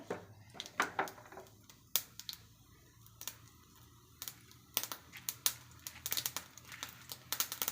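Sharp, irregular pops and crackles of mustard seeds bursting in hot oil, coming in scattered bursts over a quiet background.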